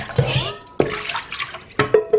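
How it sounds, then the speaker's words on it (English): Rinse water sloshes and pours over soaked yuca (cassava) root in a bowl, with three distinct splashing bursts close up and no talking. "we're going to give this another rinse"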